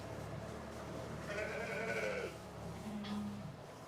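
A newborn lamb and a ewe bleat in a barn during lambing: a wavering higher cry followed by a lower, shorter bleat, faint against steady background noise.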